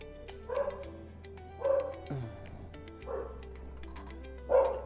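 A frightened dog barks at a parked motorbike in a very narrow lane, giving four short yapping barks spaced about a second apart, moderately close and heard alone.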